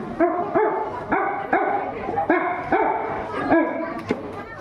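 At a school inter-house cultural competition, a voice imitates a dog barking, giving about seven gruff, evenly spaced woofs close to the listener.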